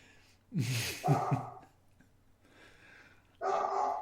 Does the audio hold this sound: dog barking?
yes